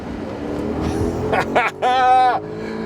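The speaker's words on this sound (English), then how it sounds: "That is the glorious sound of the Quattroporte in full song." A 2014 Maserati Quattroporte engine roars up through the revs at full throttle a mile above sea level, with a rising, strained whine near its peak.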